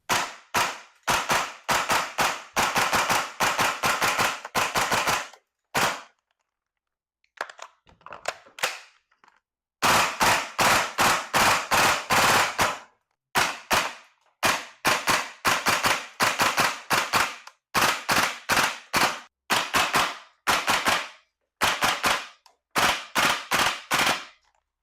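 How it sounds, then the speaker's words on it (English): A Cybergun/VFC FN SCAR-H gas blowback airsoft rifle fires in rapid full-auto bursts of sharp, loud, snappy cracks, with short pauses between strings and one quieter gap of mechanical handling. "The recoil is really good. The replica kicks hard with a snappy cyclic rate."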